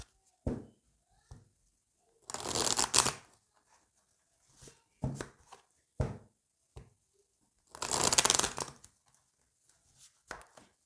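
Tarot cards being shuffled and handled in short bursts, with two longer riffling passes between scattered soft taps and slaps of the deck on a quiet tabletop.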